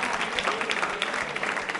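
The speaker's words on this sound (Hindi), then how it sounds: "जोरदार तरीके से तालियां" Loud, dense applause from a school quiz show audience, steady clapping throughout with no pauses.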